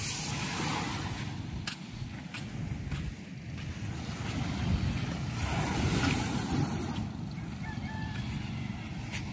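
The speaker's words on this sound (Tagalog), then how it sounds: "Dadatingan ng mga bangka." Fishing boats come in on the sea near a river mouth, heard under a continuous roar of surf and wind, with faint engine rumble and occasional bird calls in the distance.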